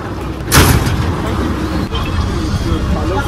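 A crowded MSRTC state transport bus running on the Jalna to Jamner road during a stormy rain, heard from inside as a loud, steady rumble of engine and road noise with a brief rush of sound early on.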